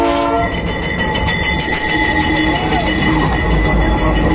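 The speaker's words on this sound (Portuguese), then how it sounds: "O trem tá chegando aí! E o trem vem!" A train hauled by locomotives arrives, filling the clip with a loud, steady rumble of wheels and engines, layered with sustained horn-like tones and faint squeals throughout.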